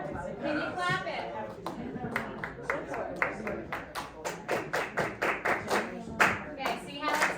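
Music students clap out a rhythm pattern together in a classroom, crisp hand claps in uneven groupings that grow more regular and dense, with voices talking in between.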